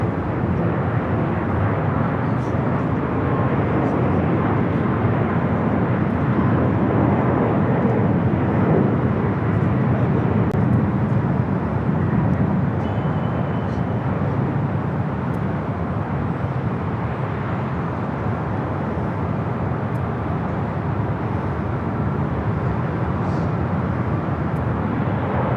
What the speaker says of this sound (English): Delta 767. This flight heading to Honolulu, making that turn onto Echo.